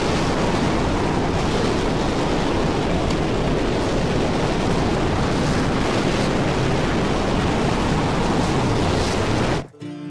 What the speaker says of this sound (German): Aber im Moment ist es ein bisschen windig.